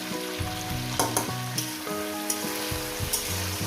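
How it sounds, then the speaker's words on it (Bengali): Salted long beans frying in a pan: a continuous hiss of sizzling with occasional stirring clicks, heard under louder rhythmic background music, with no one talking. "প্রথমে আমি এরকম বরবটিটাকে তিন চার মিনিট ধরে আমি চার পাঁচ মিনিট ধরে আমি এটাকে ভেজে নেব"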